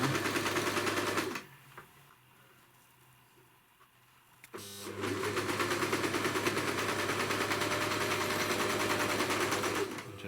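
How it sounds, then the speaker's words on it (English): An overlocker sewing machine stitches a trouser pocket nearby, running in a loud steady whir, pausing briefly for a few seconds, then resuming at full speed. "The person who invented an overlocker is an absolute genius, because it's so clever"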